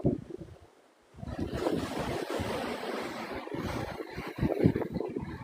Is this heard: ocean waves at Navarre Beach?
yes